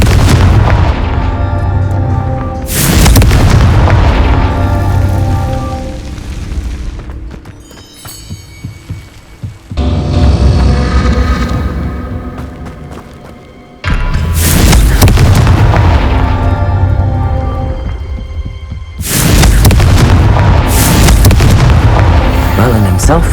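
Heavy booming blasts of the Confringo fire spell in Hogwarts Legacy, several loud explosions with long rumbling tails, spaced out in bursts, with a voice casting spells.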